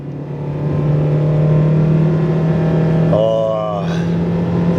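A 61-kilowatt Honda Jazz accelerates with a steady, strained engine drone that rises gently in pitch, heard close and loud, with a brief voice near the end.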